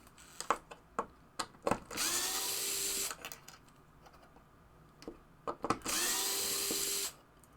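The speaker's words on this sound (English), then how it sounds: "Alright, now we're going to remove the screws for over here." A power screwdriver removes screws from a Spanish Eyes pinball machine, with two sustained whirring runs of a few seconds each, separated by clicks, taps and handling of loose parts.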